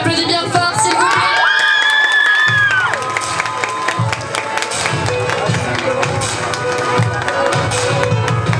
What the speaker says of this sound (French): Allez, on applaudit bien fort, s'il vous plaît.